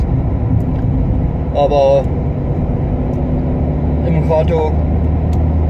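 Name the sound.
car driving, heard from inside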